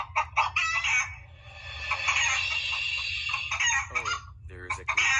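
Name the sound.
chicken clucking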